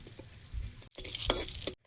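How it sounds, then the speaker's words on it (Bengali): Oil sizzles and crackles as radish goes into a hot pan with dried red chillies, with brief stirring clatter and a short pause midway. "তেল দিয়ে মূলো ভাজাটা চাপিয়ে দেবো"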